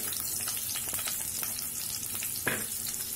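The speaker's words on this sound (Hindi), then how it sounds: "तेल गर्म हो चुका है, अब हम इसमें प्याज डाल देंगे" Onions frying in hot oil, a faint, even crackling sizzle throughout with one brief louder spatter near the end.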